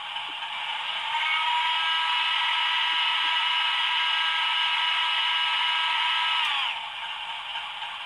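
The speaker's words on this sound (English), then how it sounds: "F15 is the primer." A Class 60 locomotive fuel primer played through a TTS model train sound system: a steady whirring hiss rises, holds for about five seconds, then cuts off abruptly, with no talking.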